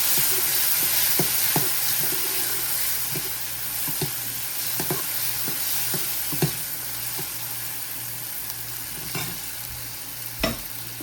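Green chillies, peanuts and tomatoes sizzle steadily in a hot pan, with a spoon scraping and stirring in scattered close knocks over a continuous frying hiss.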